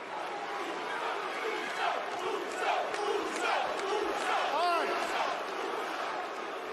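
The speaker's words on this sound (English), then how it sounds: "Crowd was loving it too." Wrestling arena crowd cheering on a WWE Raw broadcast from September 2023, a steady roar of many voices with swells and chants, heard from a distance with commentary talk over it.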